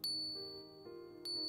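A real silver coin struck and left ringing, giving a pure, high-pitched bell-like tone that sustains and decays, with a second light strike near the end; close and fairly quiet, no talking.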